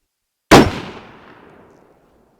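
A single loud, sharp gunshot from a Winchester Model 94 lever-action rifle in 30-30, fired outdoors, with a sudden crack followed by a trailing echo that fades over about a second and a half.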